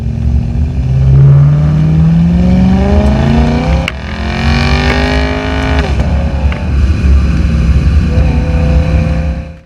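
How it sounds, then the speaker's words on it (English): A 2011 BMW E90 M3 V8 revs hard, climbing in pitch through its range, dropping back, then sweeping up again, loud and close with no talking. "the V8 tears through its rev range with a purpose and smoothness not often displayed in V8 engines"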